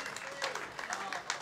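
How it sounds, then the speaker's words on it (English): A crowd at a workers' club band night claps for the bar staff, a short burst of scattered hand claps under murmuring voices. "Let's give them a round of applause."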